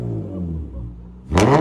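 A 3.5L V6 Acura TL Type S with an aftermarket exhaust idles with a low rumble, then snaps into a sharp, loud rev near the end, close by.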